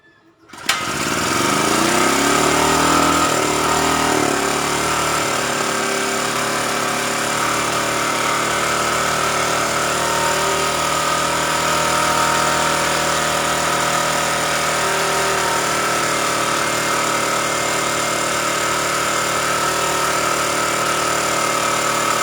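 A generator set engine running on firewood starts up and settles into a loud, steady drone that continues alone without pause.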